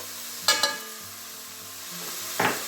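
Garlic and mushrooms fry in a pan with a soft, constant sizzle, broken by a few sharp scrapes as the pan is stirred.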